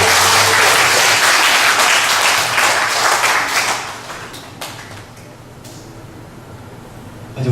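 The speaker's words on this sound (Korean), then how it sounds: "박수로 환영하겠습니다." A church congregation bursts into loud, sustained applause welcoming elders and a family, the clapping dense for about four seconds before tapering into faint scattered claps.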